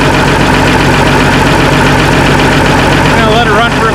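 A Minneapolis Moline G tractor engine idles close and loud, a steady, rough, rumbling chug that runs unbroken, with a voice faintly present near the end.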